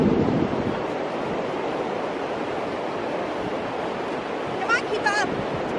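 Ocean waves wash onto a beach in a broad, steady roar mixed with wind noise, and a brief higher vocal sound near the end.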